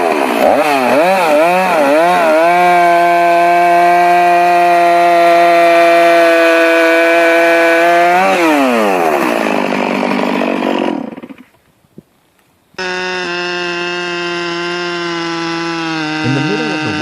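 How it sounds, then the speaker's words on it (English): A STIHL MS 460 chainsaw cutting through a huge fallen tree trunk on a wet forest floor, its engine roaring loud and close with rising and falling revs, cutting out briefly before restarting at a steady high whine. "He started the STIHL MS 460 chainsaw, the roar of the engine reverberating in the quiet space."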